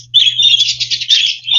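Parakeets chirp and tweet busily inside a walk-through birdhouse at a wildlife safari park in Oregon, a dense, continuous chatter of bright calls close by, with a low steady hum underneath.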